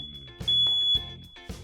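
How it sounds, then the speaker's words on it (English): A household smoke detector sounds its alarm, giving three loud, piercing beeps in a regular rhythm, close and clear with no one talking over it. "Another thing that we could do is have smoke detectors in the house."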